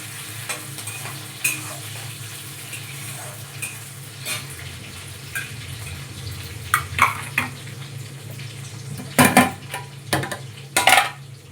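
Cooked rice mixed with vegetables goes into hot oil in a pan, giving a steady close sizzle with scraping stirs and sharp clatters of a spoon against the pan near the end.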